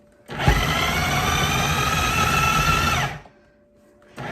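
A KitchenAid food processor whirs loudly and steadily for about three seconds while blending beef heart, liver, parsley and an egg, then cuts off abruptly into quiet.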